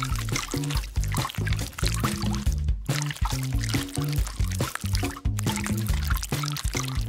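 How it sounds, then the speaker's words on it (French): Water and paint pour steadily into a container for making slime, a continuous splashing trickle heard beneath loud, rhythmic background music that plays throughout. "Nous aurons besoin d'eau et de peinture."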